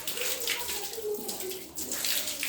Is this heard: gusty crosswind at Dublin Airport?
no